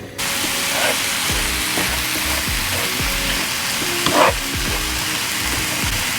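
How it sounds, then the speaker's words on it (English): Spice mix sizzling in oil in a frying pan, a steady close crackle and hiss running throughout, with a few clinks and knocks from stirring on top. "Then you just want to add in the spice mix here and fry it for around 2"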